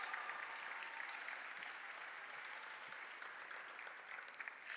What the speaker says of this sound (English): Let's give one more round of applause for Miss Mitchell's advisory